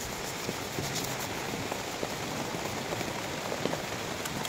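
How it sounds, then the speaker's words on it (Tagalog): Steady rain falling outdoors, a continuous dense hiss with scattered close drop taps throughout, no voices. "naulan-ulan dito sa amin,"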